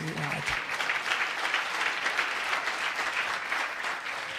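A church congregation claps during a sermon in a steady, continuous burst of many hands, fairly close and even in level, with a brief voice at the very start.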